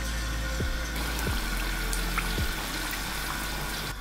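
Battered cauliflower fries in hot oil with a steady bubbling hiss and soft crackle, close and continuous, with a few faint low knocks.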